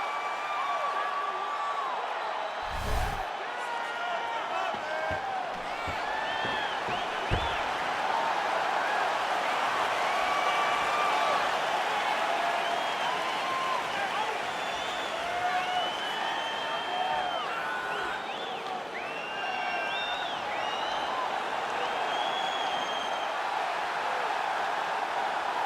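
Sold-out arena crowd in EA Sports UFC 4 keeps up a steady roar of cheering, whoops and applause as the flyweight champion makes his walk, with a commentator talking over it throughout.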